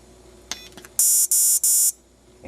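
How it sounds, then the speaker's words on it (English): An Elite-Tek ET-9868 remote dog training collar receiver beeps: a brief faint chirp, then three loud, piercing electronic beeps in quick succession, close and alone. "if you want to beep your dog, you simply push the beep button"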